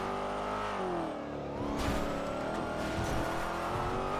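A video game car runs along fence lines on a runway: a steady, loud engine drone with shifting pitch and scraping, grinding noise, continuous throughout with no speech.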